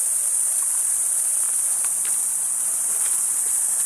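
Cicadas in trees keep up a dense, unbroken high-pitched buzz after monsoon rains, loud and constant, with a few faint rustles and ticks underneath.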